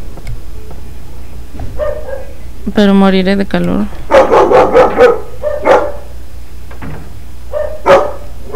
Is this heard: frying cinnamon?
no